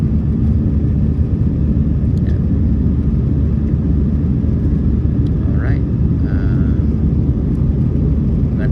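A passenger airplane taking off from Raleigh-Durham International Airport at dawn fills the cabin with a loud, steady engine roar, under a voice talking throughout, with a few faint chimes and squeaks over the drone.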